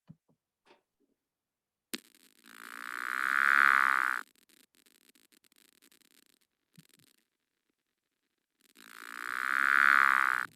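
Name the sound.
creaky door frog calling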